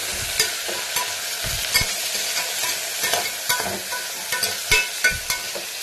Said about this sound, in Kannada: ಟೊಮೊಟೊ ಹಾಕಿ ಫುಲ್ಲು ಮಿಕ್ಸ್ ಮಾಡಬೇಕು